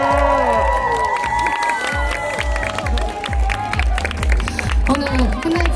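A street busking crowd in Hongdae claps and cheers with shouts and whoops over loud rhythmic music with a heavy beat, the crowd noise lively and close.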